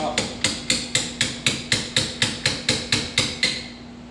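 A hammer taps a steering column coupler loose on a 1967–68 Camaro, Firebird or Chevelle tilt column: about fourteen sharp, ringing metal strikes in a steady, even rhythm, close and loud with no talking.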